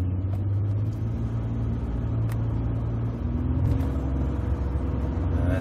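Ford F-150 with the 3.5L EcoBoost engine, which has a repeat misfire fault, driving on a country road: a steady low engine drone and road rumble heard from inside the cab, with no talk.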